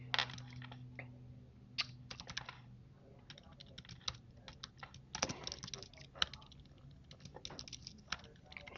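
Keys clatter in quick irregular bursts as someone types on a computer keyboard, a steady run of close, light clicks and taps with brief pauses, alone against a faint low hum.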